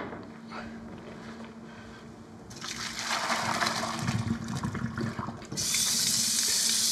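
Cooked scallion noodles being rinsed under a kitchen tap, with steady running water that swells louder midway and becomes a strong full gush near the end.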